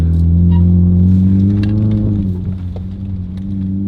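Car engine straining hard on a muddy dirt track, a loud, steady low drone with strong harmonics that drops slightly in pitch and load partway through, close and continuous, with faint rustling and no talking.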